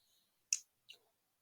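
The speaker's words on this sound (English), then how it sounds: "I'm going to snip it" Two quick, crisp snips of scissors cutting crochet yarn while finishing a shamrock, close and quiet, about a third of a second apart, with near silence around them.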